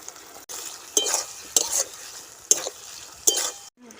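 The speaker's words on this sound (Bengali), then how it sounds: "মিনিট দুই তিনটা সময় ধরে আমি একটু সবজিগুলোকে নাড়াচাড়া করে নিয়েছি" Vegetables for chili paneer stirred and frying in a pan, a steady sizzle broken by four or five sharp scrapes and clinks of a spoon against the pan, close and moderately loud with no talking.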